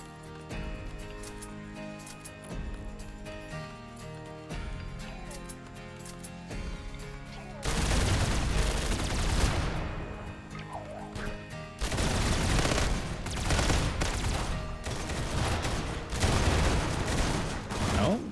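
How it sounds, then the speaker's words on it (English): Mortars fire during a RimWorld siege as a continuous, heavy barrage of crackling booms and thuds that swells louder partway through and keeps pounding to the end. "I want them dropping mortars on the High Stellar."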